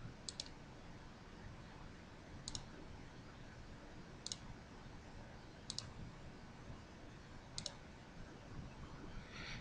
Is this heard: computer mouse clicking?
yes